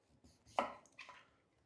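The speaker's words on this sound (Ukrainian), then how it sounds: "Спочатку я його нарізаю ось такими полосками, можна сказати." A few quiet knife cuts through pumpkin tap against a cutting board, a soft chop followed by lighter slicing sounds, close and faint with no talking.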